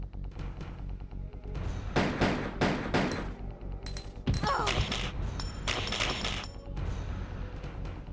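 Magnum pistol shots in the 1998 Resident Evil 2 video game, Dreamcast version, several loud booming blasts spaced irregularly amid game music and ambience.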